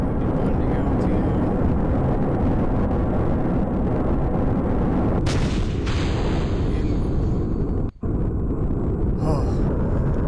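In Kerbal Space Program, a rocket's solid booster stages separate during the gravity turn, heard as a steady, loud roar of engine rumble with a sharp burst of noise partway through and a brief cut-out near the end.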